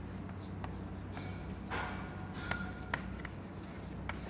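Marker or chalk writing equations on a lecture board, a steady scratchy stroke with several short taps and squeaks, fairly faint over a constant low room hum.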